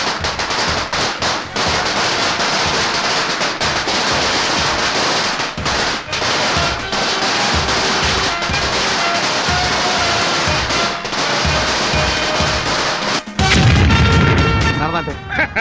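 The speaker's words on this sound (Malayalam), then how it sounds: "ഈ മാലപ്പടക്കത്തിന് പകരം അത് തന്നെ കുറെ അങ്ങ് പൊട്ടിച്ച പോരായിരുന്നോടാ" Long strings of firecrackers burst in dense, loud, continuous rapid-fire crackling for most of the span, with brief gaps, then a heavier booming blast near the end.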